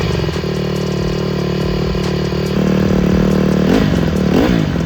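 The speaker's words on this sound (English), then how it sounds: "Why don't you rev it up a little bit?" A 2012 Honda CRF150 dirt bike engine runs loud and steady at close range, then revs up sharply in a couple of rising bursts near the end, with no talking over it.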